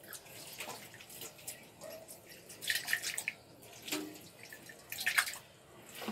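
A drinking glass is rinsed under running tap water at a sink, with soft splashing and dripping that swells in a few brief louder bursts, fairly faint overall.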